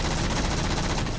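A Phantom dropship in Halo 4 fires a rapid, dense burst of automatic gunfire at the player, a brief, steady stream of shots at moderate volume.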